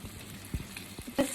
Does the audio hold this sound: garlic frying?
yes